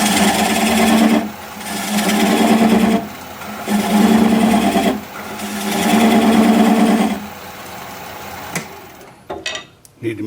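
A 3/8 inch bowl gouge cuts a spinning wooden bowl on a lathe in four loud, close passes of raspy whirring, separated by short pauses, ending with a few scattered knocks.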